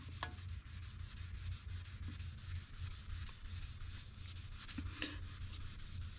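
Stainless steel side trim from a 1957 Chevy 210 being hand polished on a bench, a steady close rubbing and scrubbing sound with a few brief clicks, no talking.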